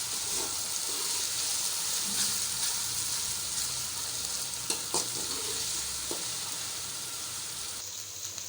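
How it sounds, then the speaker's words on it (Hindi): Garlic and ginger fry in a pan with a steady close sizzle and hiss, broken by occasional scraping clinks of a spoon stirring, with no talking. "लहसुन अदरक फ्राई हो गया।"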